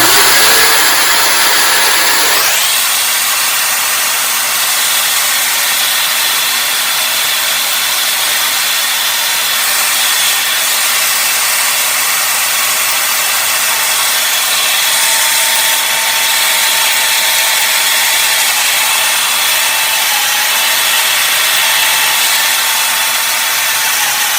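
A palletwood ring spinning on a running drill while being sanded, giving a steady loud motor whine with a high hiss that starts abruptly after a moment and continues alone without a break.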